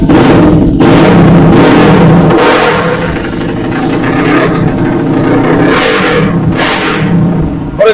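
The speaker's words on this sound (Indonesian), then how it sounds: "langsung saja aku cek son untuk suara motor ini ya bang" A motorcycle engine is revved hard and loud up close, repeatedly rising and falling with roaring bursts over a rattly running note, alone without talk.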